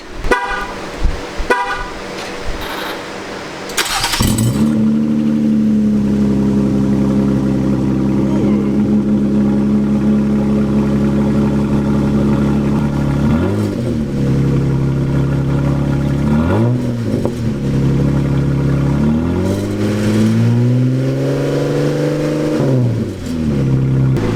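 A Jeep Gladiator engine with straight-pipe exhaust starts and settles into a loud, deep, throaty idle with a few revs rising and falling, close by and dominating throughout.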